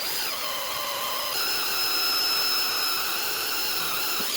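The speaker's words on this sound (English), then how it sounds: "just make sure the carbide bit doesn't wander and that it stays as close to the center as possible" A carbide bit drills out a wheel lock on a Fiat 500, giving a steady, loud high-pitched whine with a squealing edge that holds through the whole stretch.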